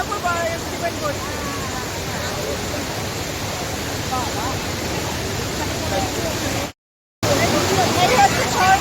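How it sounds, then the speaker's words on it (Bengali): Waterfall in a small village area, steady broadband rush of falling water filling the scene, with a crowd of visitors faintly audible and voices now and then, broken by a brief dropout near the end. "এই হচ্ছে ঝর্ণা।"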